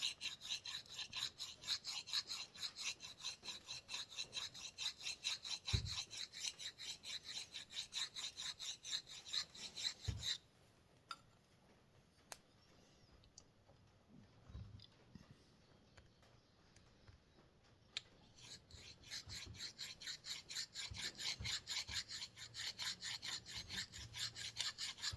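A big block engine piston is deburred by hand with abrasive, a close, steady rasping and rubbing in quick repeated strokes. The work pauses for several seconds partway through, with a few faint knocks, then the scraping resumes.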